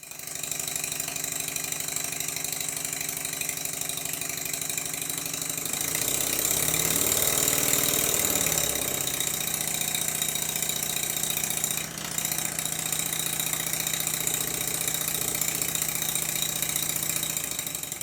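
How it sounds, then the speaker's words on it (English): A model steam engine chugs and whirs steadily, with a mechanical clatter that quickens and swells midway before settling back into an even running rhythm, heard up close with no talk. "This engine runs very well slowly, and it runs equally well at warp speed."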